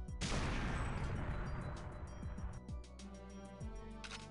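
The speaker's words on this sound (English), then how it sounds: "don't be too close for the explosion and see what you can get" A mine explodes in GoldenEye 007 on the N64 with a loud, booming blast at the start that decays over a couple of seconds, followed by quieter game sounds.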